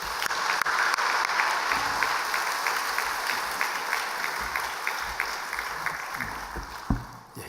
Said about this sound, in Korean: 박수로 하나님께 영광을 올려드리겠습니다.